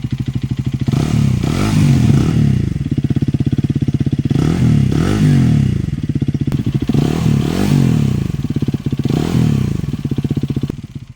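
Hero Karizma motorcycle engine and exhaust, freshly serviced with new engine oil, revving repeatedly in rising and falling blips over a steady loud idle, close up, with a light mechanical clatter and no talk.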